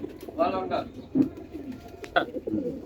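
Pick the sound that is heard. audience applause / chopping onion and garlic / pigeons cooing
pigeons cooing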